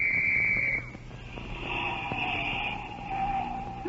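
A shrill police whistle blasts for about a second at a street crossing, then traffic-like noise and fainter whistling tones carry on after it.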